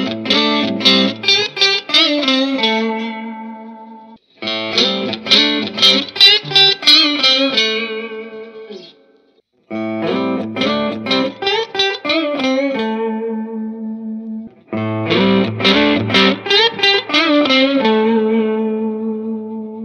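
Electric guitars played through their neck pickups with distortion ring out in four loud, reverberant strummed and picked phrases, each dying away before the next, with no talking.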